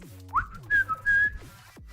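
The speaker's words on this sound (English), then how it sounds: "Nice whistle while you win." A person whistles a short tune of a few rising and held notes, close and clear against a quiet background with no talking.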